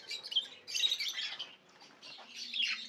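Pet birds bred in an aviary chirp and tweet in quick, high bursts, several birds calling close by with brief pauses between flurries and soft wing flutters.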